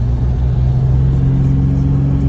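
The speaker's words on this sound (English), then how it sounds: "it sounds like the motor's ready to fucking blow" Turbocharged Chevrolet Cavalier engine held floored, a loud steady low drone with a faint rising tone, continuous throughout and heard alone.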